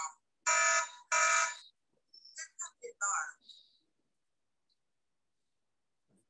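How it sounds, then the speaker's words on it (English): A Hikvision AX Pro wireless alarm system is triggered, giving two loud, close electronic alarm bursts followed by shorter chirping beeps, then silence. "And I trigger the alarm."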